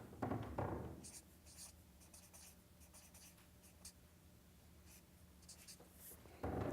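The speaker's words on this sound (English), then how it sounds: "I'd write in cursive, but I don't know if you'll be able to read it all." A marker squeaks and scratches across a board in short, irregular strokes, faint and fairly distant, with a brief voice or movement at the start and end.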